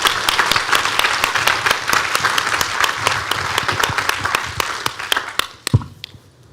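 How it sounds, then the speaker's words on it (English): A symposium audience gives a sustained round of applause, dense clapping that fills the room for several seconds before thinning into a few scattered claps and fading out. "maybe we can give a round of applause before we go into our question and answers"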